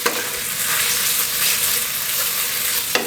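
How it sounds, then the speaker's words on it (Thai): Noodles coated in dark soy sauce stir-fry over high heat, giving a loud, dense, continuous sizzle close up, with a couple of sharp scrapes at the start and end and no voices. "เสร็จแล้วเราก็เอาเส้นลงไปผัดครับ ที่เราคลุกกับอ่าซีอิ๊วดำเอาไว้นะครับ ตรงนี้ใช้ไฟแรงนิดนึง"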